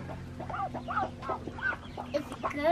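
Chickens cluck in a quick run of short, close calls over a steady low hum, the clucks coming a few times per second.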